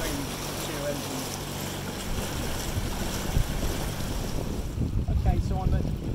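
A Mariner outboard motor idles at very low throttle on a boat moving around 2.6 knots, a steady low rumble blended with wind and water noise at moderate level throughout.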